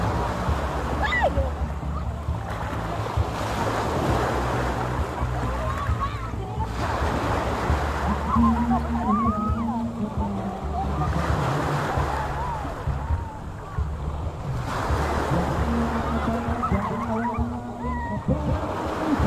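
Sea waves wash onto a rocky shore, rolling and hissing in repeated surges under steady wind buffeting the microphone, with voices talking faintly at times.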